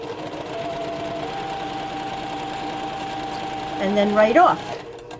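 A domestic sewing machine stitches a quilt block seam, a steady close motor whir with rapid needle rhythm running for several seconds before slowing and stopping, while someone speaks briefly.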